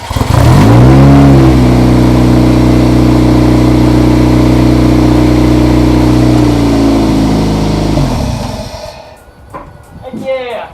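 Turbocharged Toyota MR2 Spyder (MR-S) engine revs up close, holding a loud, steady high rev for several seconds before dropping back toward idle, with faint voices at the end.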